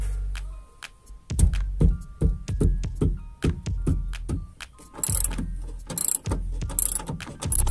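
17 mm spanner ratcheting on a seat belt bolt inside a Perodua Axia, a rapid run of close, sharp metallic clicks followed by a few brighter scraping clinks.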